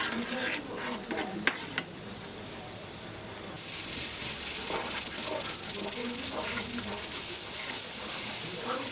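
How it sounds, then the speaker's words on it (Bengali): Raw mango pulp for aamsatta coming to a boil in a pan while being stirred, with a steady hissing, bubbling sizzle that swells louder partway through and holds close and continuous. "দেখো ফুটতে শুরু করেছে।"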